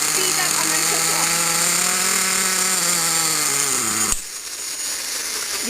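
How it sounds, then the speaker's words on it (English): A nitro RC car engine revs loudly in a steady high whine that slowly drops in pitch, then abruptly cuts off, leaving only faint background hiss. "The engine will speed up and then cut off."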